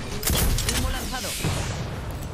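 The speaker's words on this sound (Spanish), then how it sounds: "Estoy recibiendo disparos." Gunfire in the Apex Legends battle royale game: a dense burst of loud shots and booming impacts at the start, then scattered game effects and a voice speaking over the din.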